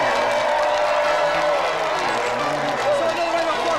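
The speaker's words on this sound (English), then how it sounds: "So another round of applause for our two final contestants, Amar and Cecil!" A studio audience at a game show applauds the contestants with dense, continuous clapping and cheering that stays loud and unbroken throughout.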